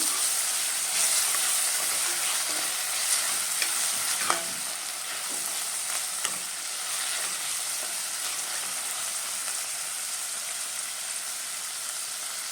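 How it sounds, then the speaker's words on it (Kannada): Finely chopped tomato frying in a pan for Chettinad chicken saru, a loud, continuous close sizzle and hiss with scattered small stirring clicks throughout, no voices. "ನಾನು 1 ಟೊಮೆಟೊನ ಸಣ್ಣದಾಗಿ ಕಟ್ ಮಾಡಿದ್ದೀನಿ. ಇದು ಫ್ರೈ ಮಾಡ್ಕೊಬೇಕು."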